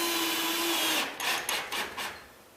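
A screw is driven into a loose outside edge of 5/8-inch sheetrock on a water-damaged garage ceiling, giving a close, steady drill whine that then breaks into several short bursts of driving.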